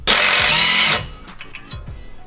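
Impact gun zips out a suspension bolt on a 2013 Subaru WRX during a coilover install, one loud burst of rattling whir lasting about a second, then quieter clinks and handling noises.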